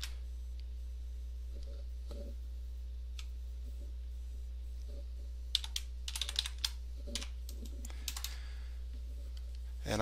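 Computer keyboard typing in a quiet room, irregular clusters of key clicks building to a denser burst in the second half, close and light over a low steady hum, no talk.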